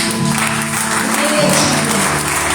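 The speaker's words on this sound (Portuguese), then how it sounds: "Então vamos dar um aplauso a Ele." A crowd claps steadily and loudly at an evening church service, with sustained music or singing and voices blending underneath.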